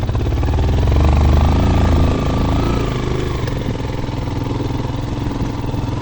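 A motorcycle engine labours on a hill road near the village of Hubas, giving a close, continuous mid-pitched drone that swells slightly early on and then settles into a steady hum with no talk.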